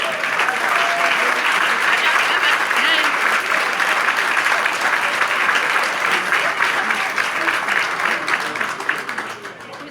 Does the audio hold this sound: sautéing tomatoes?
no